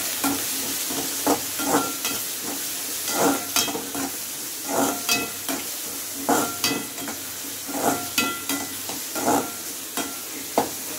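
Banana stem, onion and coconut masala sautéing in a pan, a soft steady sizzle broken by regular scraping stirs of a spatula, close and alone without talk.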